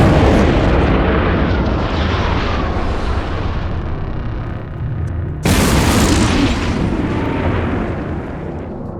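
Bombs detonating in the space game EVE Online, a sustained rumbling roar of explosions that fades slightly and then bursts back in with a fresh loud blast, no voices over it.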